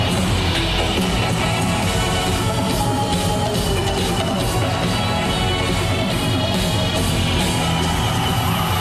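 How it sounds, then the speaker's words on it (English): A large concert crowd yells and cheers loudly and continuously as a band winds up its set, a dense wall of voices with heavy low-end rumble throughout. "That crowd is big. The band is winding up its set."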